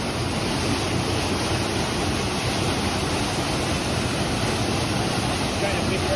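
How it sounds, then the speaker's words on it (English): Waterfall at the Basin in Franconia Notch, a bowl-shaped pool on a hiking trail, roars as a steady, dense rush of falling water, loud and continuous with no pauses. "now we're doing a little hike to see some different waterfalls"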